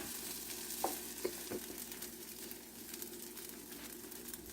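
A veggie oats pancake sizzles softly in a pan after flipping, a faint, low frying hiss with a few small clicks near the start and no voices.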